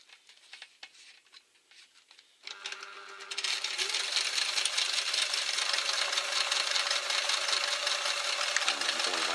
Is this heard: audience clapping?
no